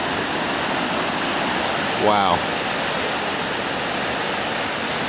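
Floodwater rushing loudly under the Hartford Village bridge, a steady broadband roar that fills the whole clip, with one brief exclaimed word from a nearby voice partway through.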